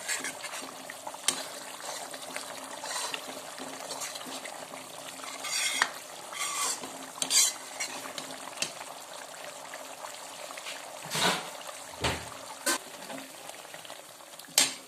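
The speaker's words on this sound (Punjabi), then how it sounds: "ਇਹਨੂੰ ਹੁਣ ਚਲਾਉਂਦੇ ਹੋਏ ਲਗਾਤਾਰ 3-4 ਮਿੰਟ ਲਈ ਪਕਾਵਾਂਗੇ ਚੰਗੀ ਤਰ੍ਹਾਂ" Pickle spices with ajwain sizzle and fry in a pan while a spoon keeps stirring them, with a steady crackle and repeated clinks and scrapes against the metal, loud and close, with no talk.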